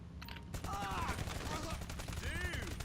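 Rapid bursts of gunfire ring out in a Grand Theft Auto shootout, with repeated sharp shots piling into a sustained volley, some crackling ricochet-like tones on top and a short quieter gap at the start.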